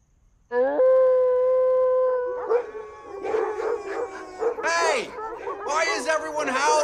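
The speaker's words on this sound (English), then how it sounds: "Everyone howling." Several dogs howl together during a musical number: one long, steady howl opens loudly, then gives way to overlapping, wavering howls and yips that rise and fall.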